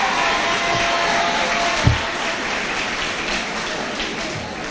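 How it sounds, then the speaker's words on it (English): A graduating middle school class applauds at a promotion ceremony, a steady wash of clapping from a crowd spread evenly across the room, with one brief louder knock near the middle. "Clap for yourself."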